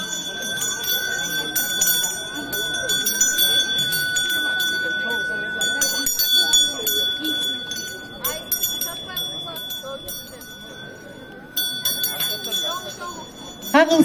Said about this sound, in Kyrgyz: шаңшыган сырдуу үнү коңгуроонун чакырат жолду турмуштун белесине.